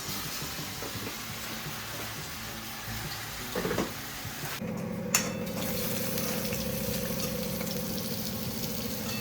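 Onion paste frying in a pan with whole spices, a continuous soft sizzle and bubbling, briefly disturbed midway before settling into a steadier, slightly louder fry.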